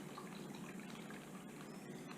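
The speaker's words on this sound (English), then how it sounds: "I'm going to pour some water into my bag." Water is poured into a plastic sandwich bag for a dinosaur-egg craft, making a steady, soft trickling and gushing that runs continuously for about two seconds at low volume, with no talking.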